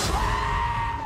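Giant goats from the Thor: Love and Thunder trailer let out one loud, sustained scream that runs unbroken for about a second over a noisy film soundtrack.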